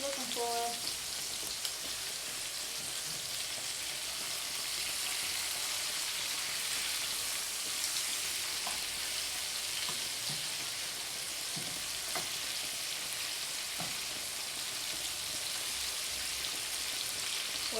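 Chicken pieces fry in a pan with a steady, close hiss and crackle that runs unbroken throughout, with a few faint clinks and a brief voice early on.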